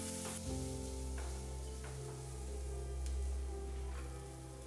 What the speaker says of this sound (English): Now add 1 teaspoon turmeric, chopped onion and saute till onion turns golden brown.